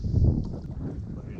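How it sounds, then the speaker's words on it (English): Wind blowing across a lake, a steady broadband rush of gusts buffeting the microphone, with a brief louder swell near the start and no voices. "Right now, it's windy. It wasn't supposed to be this windy today,"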